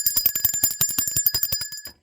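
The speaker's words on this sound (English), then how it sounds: "Let me ring the bell for that." A small bright bell rung rapidly and repeatedly, about twenty quick metallic dings in a steady run that stops abruptly, loud and close with no talking.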